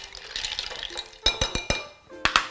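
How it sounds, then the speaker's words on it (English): A spoon stirs a cocktail in a cup, starting with soft liquid swishing and then moving into several sharp clinks of metal against the cup, with a last pair of taps near the end. "Go ahead and stir that up."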